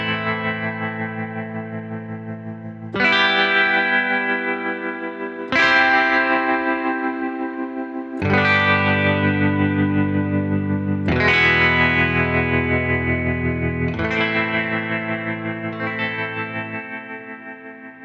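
Sampled guitar chords from the E-Instruments Desolate Guitars preset, six sustained chords struck in turn at a slow, even pace, each ringing out with effects-laden shimmer and gradual decay, loud and alone with no talk.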